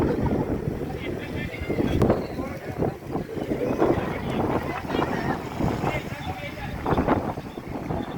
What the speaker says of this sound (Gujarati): તો મિત્રો, તમે જોઈ શકો છો, અહીં જોરદાર આંધી આવી છે.